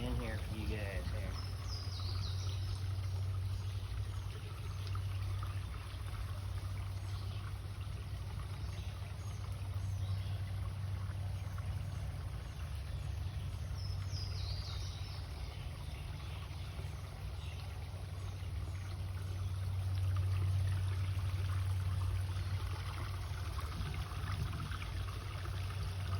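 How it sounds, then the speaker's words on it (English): A small creek in North Carolina flows with a steady, continuous wash of running water, close and even throughout, with a low constant rumble underneath and no talking. "it's a nice little, like I said, nice little creek."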